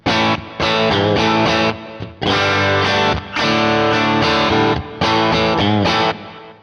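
Electric guitar played through an overdrive pedal into a Princeton Reverb-style amp tone, crunchy distorted chords strummed in several bursts with short pauses between, loud and close.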